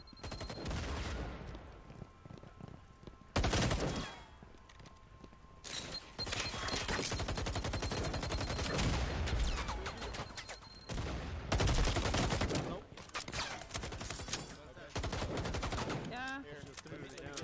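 Heavy gunfire from a competitive team match rattles continuously, with dense rapid machine-gun bursts and overlapping shots, loud and close, dropping briefly between volleys.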